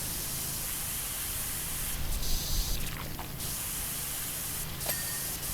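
A pressure washer sprays continuously in the game Powerwash Simulator, a steady loud hissing rush that barely varies, broken by a few faint metallic dings, with no talking.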